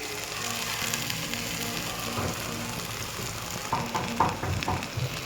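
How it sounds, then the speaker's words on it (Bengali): Water poured into a hot pan of ground pea paste sets off a loud, continuous sizzle, with stirring scrapes and clatters growing more noticeable toward the end. "আমি মিক্সি ধোয়া জলটা দিয়ে দিচ্ছি"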